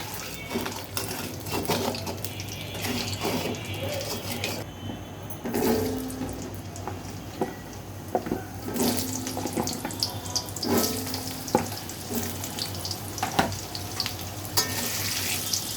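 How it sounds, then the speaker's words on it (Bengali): Potatoes fry in oil with a steady, moderate sizzle. Occasional utensil scrapes and clinks mark stirring, and a brief watery hiss rises partway through. "এবার আলুগুলোকে লাল লাল করে ভেজে নেব"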